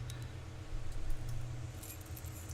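Keys jangle close and clearly in The Walking Dead video game, a bright metallic rattle over a low steady background hum, with no talking.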